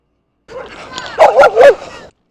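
A dog lunging at a cyclist gives a few sharp, loud yips and barks close by, bunched into a short burst and then cut off.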